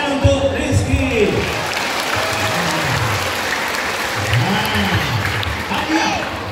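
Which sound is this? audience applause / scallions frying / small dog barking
audience applause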